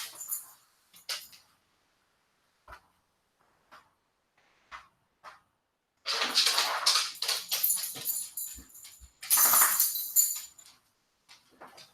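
Dogs at home whimper and yelp in short, scattered bursts with quiet gaps between, then break into two stretches of loud, frantic barking close by.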